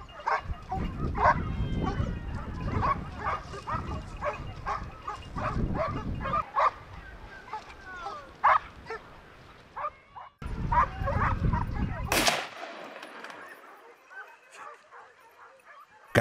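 Several hunting dogs bark and yip excitedly in rapid, overlapping bursts at moderate distance while chasing a wild boar. A sharp gunshot crack cuts in partway, then the barking continues more faintly.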